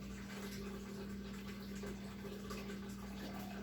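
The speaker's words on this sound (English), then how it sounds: "I do have to refill my water filter each time we take water out" A steady rush of running water, like a tap filling a container, as a water filter is refilled, with a constant low hum underneath.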